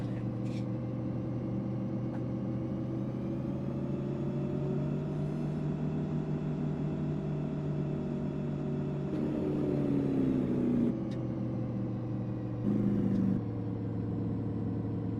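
Truck engine in American Truck Simulator, a steady close drone with harmonic pitch holding level, then rising and dipping as revs change near the middle and again toward the end, with no voices over it.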